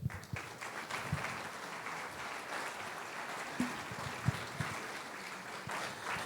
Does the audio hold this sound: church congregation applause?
yes